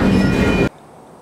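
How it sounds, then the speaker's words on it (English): Freight train rolling steadily along the tracks, a loud, dense rumble with metallic wheel noise that cuts off abruptly partway through, leaving only faint background hiss. "The whole time you could just jump off the train. It's going this speed."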